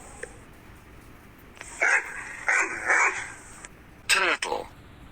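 A dog lets out a quick series of loud, close barks, followed by a short burst of voice.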